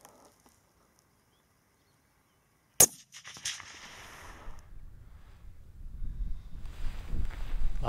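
A rifle fitted with a Swarovski X5 scope fires at a fox about 120 yards away, outdoors. One sharp, loud crack breaks the near silence, followed by low rumbling wind and handling noise.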